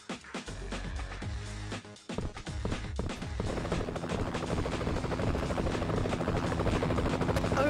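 Rescue helicopter in the Android shooter game Fatal Raid: after a burst of choppy impacts and game noise, a loud, steady rotor drone takes over and holds close and constant to the end.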